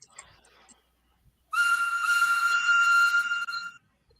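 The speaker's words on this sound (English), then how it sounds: "just take a listen to my OC's whistle in here" After a brief quiet stretch, a shrill steady whistle blows loudly for about two seconds, then cuts off.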